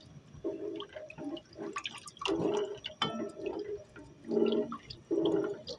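Water and gelatin are stirred together in a bowl while making eggless leche flan, with close, irregular sloshing and clinking bursts separated by short pauses.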